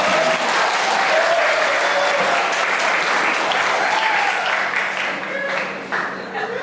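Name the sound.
audience applause at a farewell ceremony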